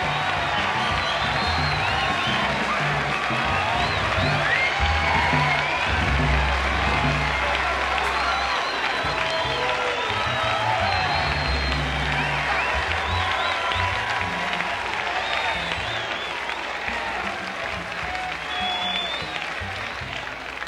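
Large live crowd at an outdoor jazz festival in Chicago bursts into sustained applause and cheering as Dizzy Gillespie walks on stage, a dense wash of clapping and shouts holding steady for about twenty seconds.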